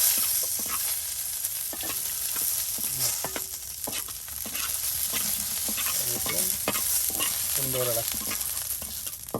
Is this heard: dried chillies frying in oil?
yes